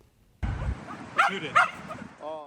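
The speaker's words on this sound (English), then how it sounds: "He's a 6-year-old Patterdale Terrier whose favorite pastime is killing New York City rats." Patterdale Terrier on a rat hunt in New York City gives two sharp barks followed by a short whine, close and brief.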